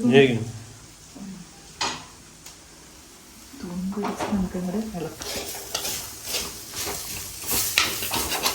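Ginger tamarind (inji puli) is stirred in a pan, a soft scraping and stirring with a light sizzle heard close by, partly under a person talking in Malayalam, with a few clinks of utensils.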